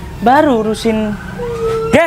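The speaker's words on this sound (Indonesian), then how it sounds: "Kayaknya barusan bunyi sirine deh." A short, tinny siren wails in rising and falling sweeps, sounding small and close like a phone speaker, with a voice speaking over it.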